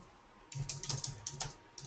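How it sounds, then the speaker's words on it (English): Fast bursts of typing on a computer keyboard, close and fairly quiet, with a short pause and then a few more keystrokes. "I'm just typing right over here."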